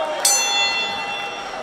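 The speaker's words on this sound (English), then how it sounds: "Ring the bell, David." A wrestling ring bell is struck once near the start at a women's wrestling event, a bright metallic clang that rings on and slowly fades over the following second.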